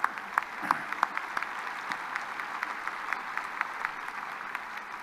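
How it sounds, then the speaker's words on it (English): Applause from the audience at a fall university commencement ceremony, a steady wash of many hands clapping, moderately distant and fairly even, with a few sharper claps standing out. "I'm assuming that applause was for my mom."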